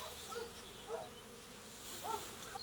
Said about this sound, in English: Let's have a look what's happening in the beehives.